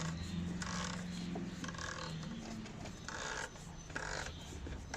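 A plastic threaded oil filter cap on a BMW is turned by hand, giving close rasping and scraping in short repeated bursts as the threads rub against each other.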